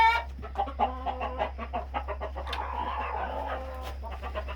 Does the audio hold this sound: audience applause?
no